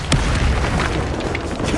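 The Confringo fire spell goes off during a wizard duel in Hogwarts Legacy, giving a loud, sustained booming blast with a sharp pop at the start and rumbling energy throughout.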